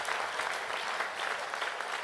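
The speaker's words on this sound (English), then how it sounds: "That does deserve a round of applause." A banquet audience gives a round of applause, a dense, steady wash of many hands clapping that holds loud throughout without a break.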